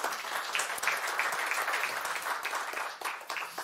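Steady, sustained applause from a seminar audience, dense clapping filling the whole moment without letting up.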